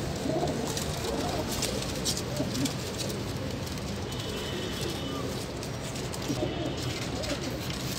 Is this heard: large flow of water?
no